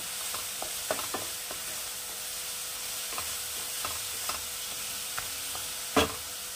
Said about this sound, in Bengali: আর দেব 1/4 TSP একটু হলুদ দিয়ে মশলাটাকে আমি ভালো করে কষিয়ে নেব।